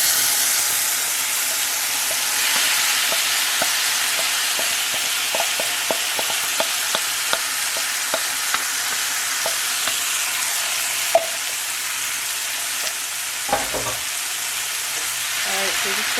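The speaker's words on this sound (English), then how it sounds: "I'm gonna get ready to add our shrimp to the pot" Marinated shrimp for Jamaican pepper shrimp hitting a hot pot, a loud continuous frying hiss with scattered small pops and ticks, and a brief clunk of stirring near the end.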